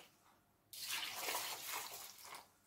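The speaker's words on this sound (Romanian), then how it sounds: "pun orezul într-un vas, pun și sare, peste care pun apă" Boiled water is poured over salted rice in a pot for maqluba. The pour starts abruptly as a steady, bright splashing gush, holds for nearly two seconds, then tapers off.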